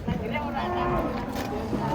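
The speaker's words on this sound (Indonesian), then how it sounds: "kita bongkar lagi guys sapinya sebelah sini" Cattle being unloaded from a truck at a livestock market, with lowing and moo-like calls rising over steady crowd murmur and voices talking nearby throughout.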